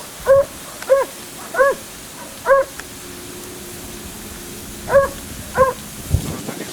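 Hound dog on a fox chase barking in the distance, about half a dozen drawn-out baying calls spaced apart over faint outdoor background.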